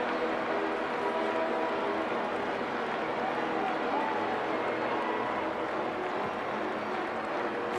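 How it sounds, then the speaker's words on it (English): Stadium crowd cheering in a Madden 26 simulated NFL game between the Falcons and Vikings, a dense continuous roar held at steady loudness for several seconds, with commentary voices mixed in. "Crowd into it now"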